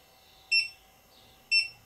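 A Geeetech UV resin curing box for 3D printing gives two short high electronic beeps about a second apart as its countdown runs, thin and moderately loud over a quiet hum.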